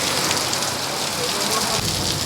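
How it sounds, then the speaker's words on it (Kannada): Heavy rain pours steadily on open ground near a parked bike, a dense continuous hiss that stays loud and even throughout, with no voices. "ಕಷ್ಟವಾಗಿ ಮಳೆ ಸ್ಟಾರ್ಟ್ ಆಗಿಬಿಟ್ಟಿದೆ"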